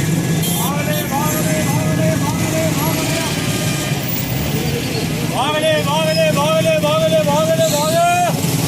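Vehicles at the Pirwadhai bus stand in Rawalpindi make a constant loud traffic din. Repeated horn blasts sound in two bursts, the second longer and more insistent, over engine rumble and crowd chatter.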